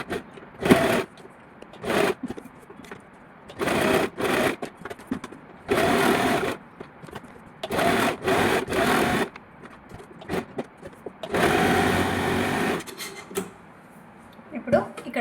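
Sewing machine stitching the neckline of a net long frock, the main fabric laid flat with lining on top; close, loud bursts of rapid whirring run in short and longer spells, with quiet pauses between them and no talking.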